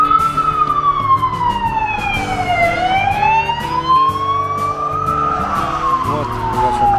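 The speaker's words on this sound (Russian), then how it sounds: "Вот опять скорая помощь" An ambulance siren wails on a road in Tournai, Belgium, its pitch sweeping down and back up as it passes loud and close amid traffic noise.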